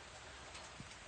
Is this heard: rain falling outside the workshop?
yes